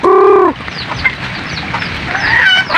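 Chickens shut in their coop during a typhoon cluck loudly and close, one sharp call followed by fainter clucks against a steady noisy background.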